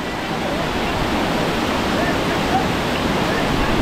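Amboli waterfall in Maharashtra pouring down, a constant broad rushing roar heard up close, loud and even from start to finish.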